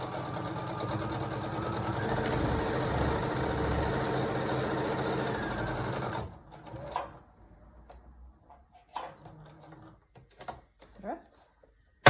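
A sewing machine stitches a cloth face mask in a steady, close whirring run for about six seconds, then stops, followed by a few soft clicks and handling noises.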